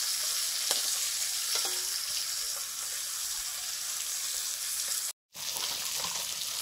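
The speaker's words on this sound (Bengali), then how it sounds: "বেগুনগুলো ভেজে নিচ্ছি" Eggplant slices fry in oil with a continuous bright sizzle and occasional faint stirring ticks, the steady hiss cut by one short silent gap near the end.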